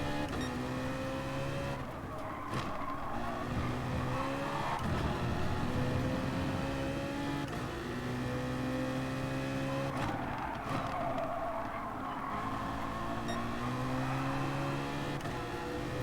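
Audi race cars circulate in a Sport Mode online race in the video game GT Sport, a steady layered engine drone with shifting pitches and occasional tire noise, continuous throughout with no talk.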